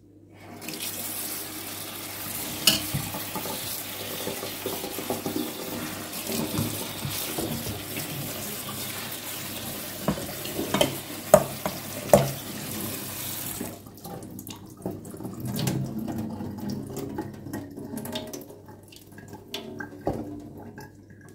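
Fresh garden vegetables and young beet leaves rinsed under a running kitchen tap, a steady close gush of water with irregular splashes and clatter, then quieter dripping and handling near the end, with no talk.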